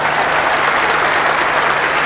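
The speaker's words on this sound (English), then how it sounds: "Loud applause around the ground" Cricket crowd around the ground applauding Steve Waugh's century, a dense, loud, unbroken roar of clapping from a large stadium audience.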